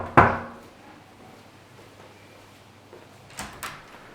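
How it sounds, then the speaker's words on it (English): A hotel room door at the Sol Lanzarote is knocked on, with one sharp loud rap close by, a pause, then two quicker knocks in a quiet corridor. "Let's give it a knock."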